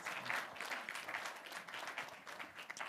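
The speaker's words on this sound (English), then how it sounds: "Another round of applause for Chris." A conference audience claps continuously at moderate distance, a dense patter of hands that holds steady for a few seconds without voices.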